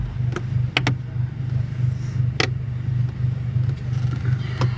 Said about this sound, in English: I don't know if you guys can hear his car. It's very loud.